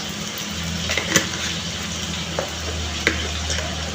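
Mashed tomato frying in a pan with a little turmeric powder. A continuous close sizzle with a few sharp stirring clicks over a low hum.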